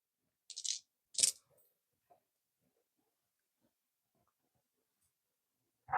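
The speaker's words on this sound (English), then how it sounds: "Now let me clean up my dice." Dice being gathered up on a tabletop: two quick clattering rattles close together, then a faint tap and near silence before another brief clatter at the end.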